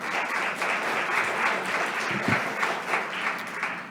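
Sustained crowd applause from an audience at a town select board meeting in Plymouth, Massachusetts, dense and even throughout.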